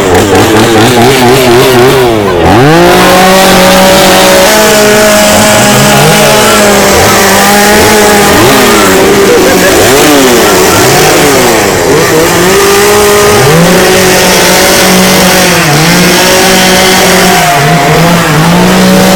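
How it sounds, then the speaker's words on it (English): Loud, nonstop whine of gas-powered leaf blowers revving up and down, overlapping and shifting pitch constantly like a chorus of chainsaws. "All I hear is chainsaws."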